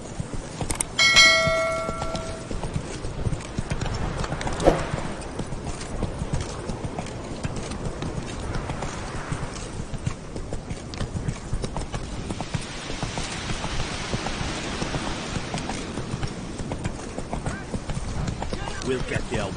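Roach the horse gallops in The Witcher 3 Wild Hunt, with rapid rhythmic hoofbeats continuing throughout, a brief bell-like ring near the start and voices talking over the running.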